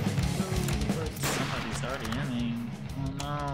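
Rapid gunfire from weapons in the game Garry's Mod, a steady dense barrage filling the clip alongside game sounds and voices.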